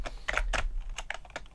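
Fingers type on a Cherry G86 POS keyboard, a quick close run of clacking keystrokes in small bursts with brief pauses, no voices over it.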